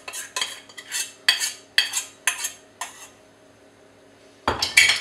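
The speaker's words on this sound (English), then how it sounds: "So give that a good mix in with the nuts." A spoon scrapes and clinks around a bowl while nuts are stirred for chocolate coconut granola, a series of close rhythmic strokes, then a pause and a final burst of stirring.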